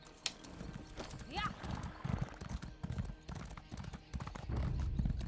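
Horse hooves clip-clop in Elder Scrolls Online, a quick run of close hoofbeats joined by a short whinny and a snort, while a person talks over the gameplay.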